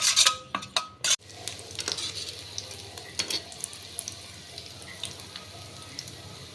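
Eggs with salt and chili powder are beaten in a bowl in a home kitchen, making quiet, close stirring and tapping sounds. A few sharper clinks come at the start before a soft, continuous whisking.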